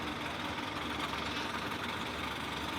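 A small steam engine for sale runs steadily at the Elvaston steam rally, a continuous low mechanical rumble and chuff close by with no voices.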